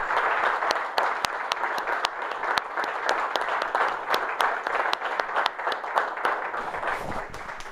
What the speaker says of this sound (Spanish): pues tenemos un aplauso, ahí lo tenemos a nuestro querido rector